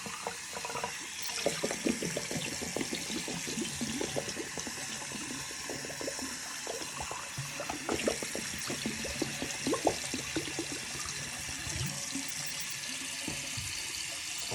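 Water runs steadily from a tap into a sink while a shaving item is rinsed under it, with a close, continuous splashing flow and small clinks as the item is handled.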